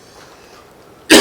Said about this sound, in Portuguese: eu vou ter que estar tossindo